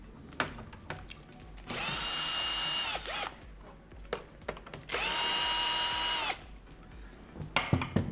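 Power screwdriver whirring in two sustained bursts, each over a second long, while removing screws from a Philips LatteGo coffee machine, with small clicks and handling noises between runs.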